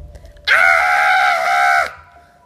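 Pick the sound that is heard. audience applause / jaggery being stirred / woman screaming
woman screaming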